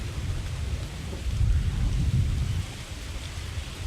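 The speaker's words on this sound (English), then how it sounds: "Oh, it's raining." Heavy rainfall in Ark Survival Evolved, a loud continuous wash of drops with deep rolling rumble swelling in the middle like distant thunder, then easing back to a steady downpour, no speech.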